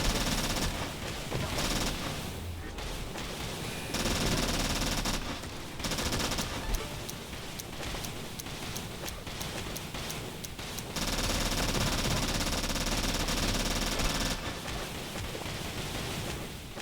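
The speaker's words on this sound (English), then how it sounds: "I went and got my SMG back" Rapid SMG gunfire in the video game Turnip Boy Robs a Bank, dense bursts of automatic shots layered with noisy game effects, loud and continuous with brief gaps.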